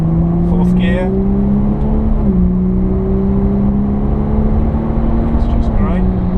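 Jaguar XF 360 hp driven gently in fourth gear on the Pamplona circuit, a loud steady cabin engine drone with a slight pitch dip during a gear change, while an instructor talks over it.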